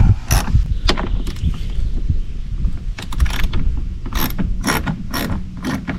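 Steady clicking of a ratchet backing out 7mm screws from an S197 Mustang door panel, close and continuous, with a few brief sharper ticks and no talking.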